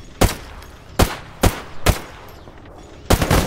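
Gunfire in the Stalker GAMMA shooter: five loud, sharp shots spaced unevenly over a few seconds, the last one followed by a brief ringing tail.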